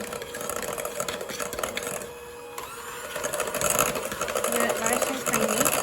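An electric mixer creams butter for a Black Forest gateau, its motor whirring and shifting in pitch as the beaters work, while a person talks over it.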